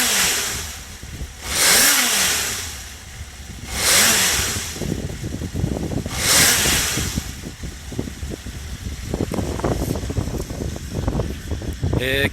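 A Honda CBX400F motorcycle engine, in good condition, revs up sharply three times in quick blips from a steady idle, then settles into a busy, rapid mid-range rumble close by.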